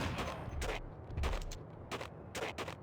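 Rapid bursts of gunfire from the video game Max Payne, several loud clustered shots in quick succession over a couple of seconds, with no talking.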